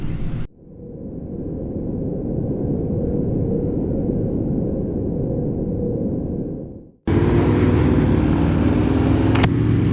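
A 2020 Aprilia RSV4 1100 Factory motorcycle at the Cadwell Park track gives a loud, sustained engine roar that cuts off sharply, then gives way to a harsher rush of engine and wind noise.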